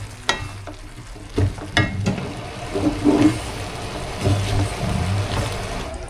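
Sautéed bottle gourd being stirred in a pan, with scraping utensil strokes and soft sizzling frying sounds, close and intermittent.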